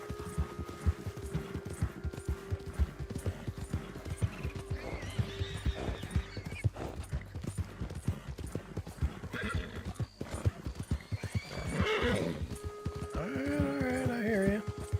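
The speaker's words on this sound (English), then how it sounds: "This horse can gallop." Rapid hoofbeats of a galloping horse in Red Dead Redemption 2 pound steadily and close, with a whinny and snorting breaths rising near the end.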